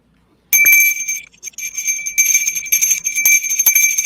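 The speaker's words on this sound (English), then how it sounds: "Can you ring the bell again, Watto?" A small bell is rung repeatedly and loudly after a short silence, giving bright sustained rings with brief gaps between strikes, close to the listener.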